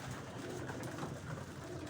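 Pigeons, a freshly flown young flock, coo softly and steadily near a loft, a low murmuring texture with no voices over it.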